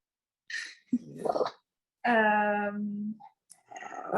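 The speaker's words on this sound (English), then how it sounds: "Sorry, my dog wants to play." A pet dog eager to play gives a short growly, whining vocalisation and then a longer drawn-out harmonic whine or howl-like moan, close and fairly loud, with brief snuffly sounds in between.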